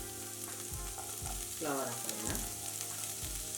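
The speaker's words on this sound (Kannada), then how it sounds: "ಹೈ ಫ್ಲೇಮಲ್ಲೇ ಹುರ್ಕೊಳ್ಳೋಣ ತರಕಾರಿನ" Vegetables with tomato fry on high flame in a pan for vegetable pulao, a steady close sizzle broken by stirring and soft spoon knocks, with a short spoken phrase over it.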